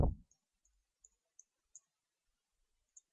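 A computer mouse clicks about five times in SPSS software, sharp and light, spaced irregularly against near silence, following a brief low thump at the start.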